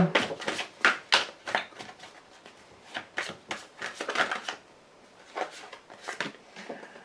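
A deck of playing cards is cut and handled at close range, giving a run of crisp riffling and snapping bursts, loud at first and then sparser and softer toward the end, with no talk over it.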